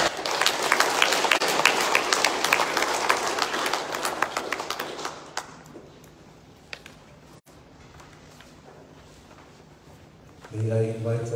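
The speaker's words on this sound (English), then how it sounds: "May I invite another round of applause" Crowd at the official opening of a national energy week gives loud, dense applause that fades out over several seconds, followed by quiet room tone and a brief return of louder sound at the end.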